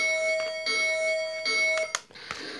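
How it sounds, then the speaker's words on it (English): A Lionel Polar Express 10th anniversary model train set rings its electronic bell, a steady repeating tone heard close and clear, stopping briefly near the end. "That's the bell you always hear from all kinds of trains."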